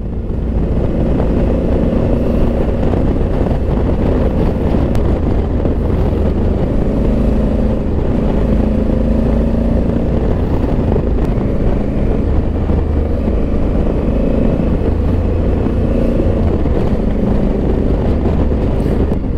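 A motorcycle cruising on an open road, its engine a steady low drone buried in constant heavy wind rush, unbroken for the whole stretch with no talking.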